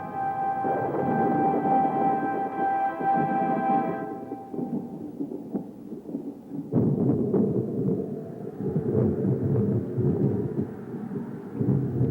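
Thunder rumbles through a storm, a long low rolling roar that swells and fades, then breaks into a nearer crackling peal, heard alone without voices.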